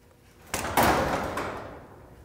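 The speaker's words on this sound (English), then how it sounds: "Now we're free to operate the garage door manually." A Genie garage door, its opener disengaged by the emergency cord, is moved by hand: a rumbling roll starts abruptly and carries on for about two seconds, steady and close, with no talking.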